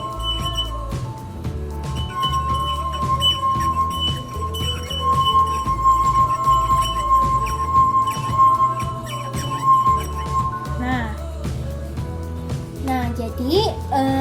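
Drinking glasses filled with different water levels are struck, producing bright sustained ringing resonance tones over a continuous background, while a voice talks throughout.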